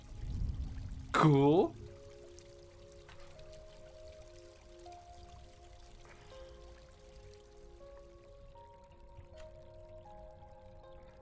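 A waterfall in the video game GRIS gives a short rushing, pouring burst near the start, then fades under soft, sustained melodic game tones, while a voice briefly speaks.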